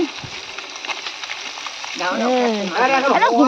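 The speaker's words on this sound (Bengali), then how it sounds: "এই যখন মাছ ভাজছি" Bata fish sizzles steadily as it fries in a pan, a continuous close hiss that carries on under a voice talking during the second half.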